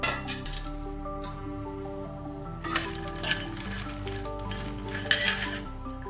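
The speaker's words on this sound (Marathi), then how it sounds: "ह्याच्यात जे मखाणे आहे ते मी भाजून घेते." Fox nuts (makhana) roasting in a pan for sugar-free date and seed ladoos, giving a steady low hum with soft clinks and a few sharper scrapes of the stirring utensil against the pan, close and fairly quiet, with no talking.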